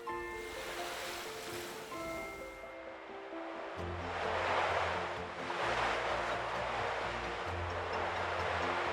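Ocean waves heard in a seashell make a soft, rolling surf wash that swells and fades beneath gentle background music in a children's storybook.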